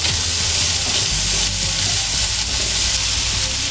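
Ginger paste hits hot oil in a pan over a gas flame, giving a steady, loud broadband sizzle and crackle that holds evenly throughout with no talk.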